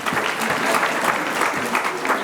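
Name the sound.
applause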